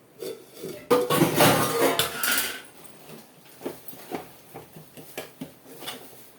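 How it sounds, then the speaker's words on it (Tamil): A small plate is set over a pot of simmering chicken kulambu, making a loud metallic clatter and scrape followed by several lighter clinks and taps nearby. "சின்ன தட்டை வச்சு மூடி வச்சுக்கிறேன்"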